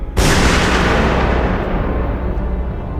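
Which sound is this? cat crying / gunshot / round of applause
gunshot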